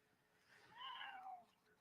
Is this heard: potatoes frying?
no